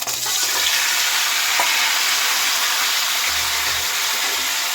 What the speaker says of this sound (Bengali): ফোড়নটা এখন রেডি হয়ে গেছে আর দিয়ে দিচ্ছি হলুদ মাখানো আমটা